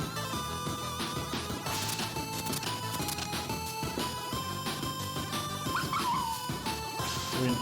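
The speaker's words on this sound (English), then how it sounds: "We can hear the dog." A dog barks and whimpers in the Axe Cop video game, yips mixed into dense, continuous game music with no talking.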